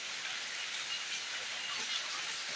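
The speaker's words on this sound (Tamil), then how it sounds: "சரியான மழை காலையில் இருந்து" Heavy rain falling since morning at a home, a steady, dense hiss of rainfall that stays even and fairly faint throughout, with no voices over it.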